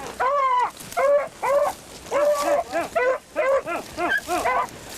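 Hunting dogs bay and bark on a hunt, a loud, repeated series of drawn-out howling barks in quick succession, several voices close by with no talk between them.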